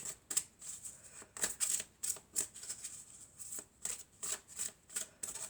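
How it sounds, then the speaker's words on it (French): Oracle cards of angels and crystals being shuffled by hand, a series of close, crisp riffling bursts in an irregular rhythm, each a brief papery flutter with short pauses between, no talking. "je vais prendre une carte de l'oracle des anges et des cristaux"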